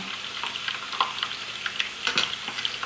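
Homemade apple fritters fry in hot oil in a pan, giving a steady bright sizzle with small crackles and pops scattered through it and no voices over it.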